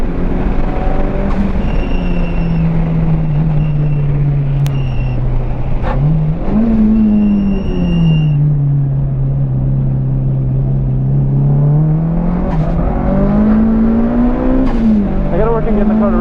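A Mitsubishi Evo 5 race car on the FIRM track roars loud and close, its engine pitch dipping and climbing as the throttle opens and eases, with a steady rushing road and wind noise throughout.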